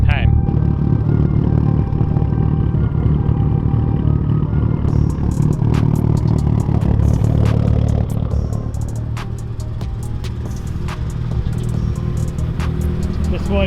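Four Mitsubishi Evo cars idling together outdoors, a steady low engine rumble with rattly clatter and occasional sharp ticks, under people talking nearby.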